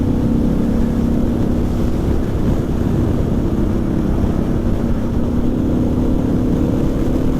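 Harley-Davidson Pan America motorcycle engine drones steadily while being ridden, a loud continuous low rumble blended with wind noise and no pauses.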